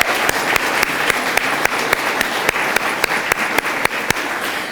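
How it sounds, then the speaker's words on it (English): An audience claps at a tourism event, a close, loud, dense round of applause with sharp individual claps sustained throughout. "Let's give him another round of applause."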